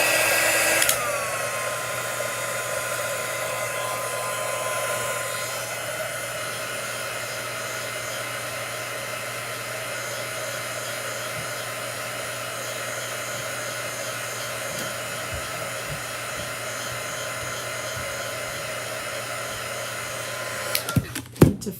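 Hair dryer blowing air over a chalk artwork, a steady loud whirring hum running almost the whole time before cutting off with a few faint clicks at the end.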